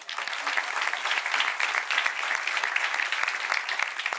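A crowd applauds three singers of a Corsican confraternity choir at a live concert, dense continuous clapping with many sharp individual claps, fairly close and steady throughout.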